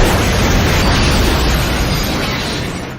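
A loud, booming explosion fills the air, a dense roaring rumble that holds steady for a few seconds, then slowly begins to fade.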